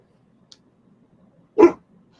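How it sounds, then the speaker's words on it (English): A single short Great Dane bark from a distance, standing alone over faint background noise. "The Dane's barking."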